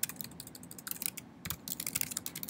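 Rapid typing on a computer keyboard produces a close, steady stream of crisp key clicks with a brief pause partway through, and no voices are heard.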